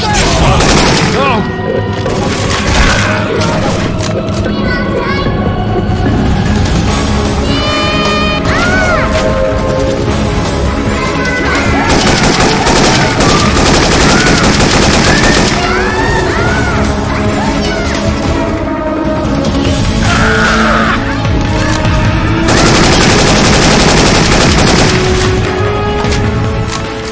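Syphon Filter weapon sounds swapped into Left 4 Dead 2 gameplay: dense, continuous bursts of gunfire and booming impacts throughout, loud and close, amid chaotic game noise with voices calling out.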